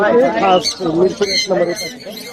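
Caged birds chirp and squawk in short high calls at a busy bird market in Mirpur, Dhaka, mostly buried under close, steady conversation between men.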